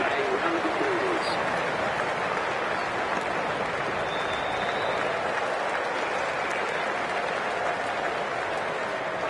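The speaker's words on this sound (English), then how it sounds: "Please give them a round of applause." A stadium crowd in the IPL 25 cricket video game applauds continuously, a dense, even wash of clapping and cheering held at a steady level throughout.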